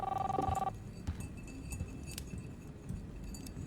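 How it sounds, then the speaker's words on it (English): A telephone rings in the video game Life is Strange, a brief bright electronic trill at the start that cuts off after under a second, leaving a low room hum. "Oh, there's the phone."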